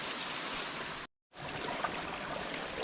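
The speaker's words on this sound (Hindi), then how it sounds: "पानी की मधुर आवाज़ है" Mountain stream water flowing along a trek route to Madhyamaheshwar in Uttarakhand, a steady broad hiss of running water close by, broken by a brief gap of silence before it resumes.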